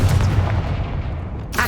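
The Confringo explosive spell cast in Hogwarts Legacy gives a deep, rumbling boom that fills the clip, loud and sustained, with a brief sharp burst at the end.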